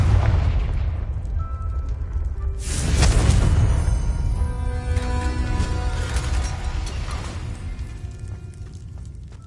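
Confringo fire-blast spell exploding in Hogwarts Legacy, a single loud booming burst with a rumbling low tail that fades over several seconds, with no voices.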